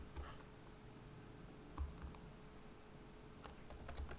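Quiet keyboard typing with scattered soft key clicks and a couple of heavier taps, close by over a low steady background hum.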